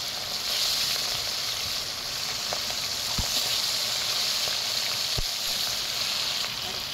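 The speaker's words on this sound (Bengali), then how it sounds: "তেল গরম হয়ে গেলে একটা একটা করে কড়াই আমি মাছ দিয়ে দেবো" Salted, turmeric-rubbed pond fish fry in hot oil in a wok, giving a steady loud sizzle with a couple of sharp clinks from utensils partway through, and no speech.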